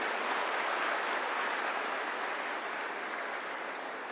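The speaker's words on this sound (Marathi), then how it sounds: "म्हणून एकदा जोरदार टाळ्या होत्या साहेबासाठी" A crowd at a comedy speech event applauds loudly. The clapping is a dense, continuous wash that holds steady for about four seconds and fades a little toward the end.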